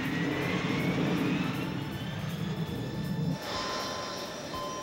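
Aircraft engines straining in flight as they begin to fail, a steady droning roar with a deeper rumble that cuts out partway through, leaving a thinner whine.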